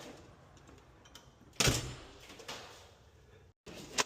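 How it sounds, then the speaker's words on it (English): A door fitted with an HES 9600 surface mount electric strike swings shut with one solid thud, followed by a brief hush and then a sharp latching click at the end. "Let's see if the door will shut and lock."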